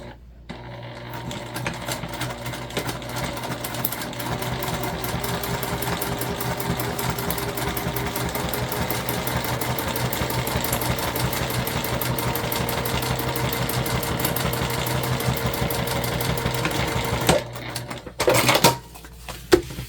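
A sewing machine stitches a waist pack in one long, steady run of rapid close needle clatter with a mechanical hum beneath, stopping near the end with a few handling clicks.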